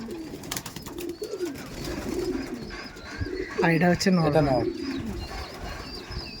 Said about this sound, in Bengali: এটা মাদি পায়রা, যেটা দেখাচ্ছেন এটা মাদি।